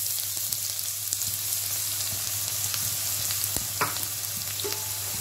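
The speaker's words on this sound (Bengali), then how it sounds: "পেঁয়াজটা আমি প্রথমে ব্রাউন কালার করে ভেজে নিব।" Chopped onions sizzle steadily in hot oil in a pot on the stove, browning as the base for beef biryani, with a soft, continuous crackle and occasional clicks of stirring close by.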